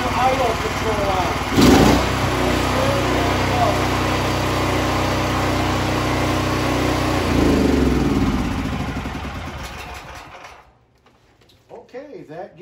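A Duromax XP13000EH generator running on propane after a gasoline-to-propane conversion, a loud, steady close engine drone with one brief surge early on, fading out near the end as a voice briefly talks over the quiet.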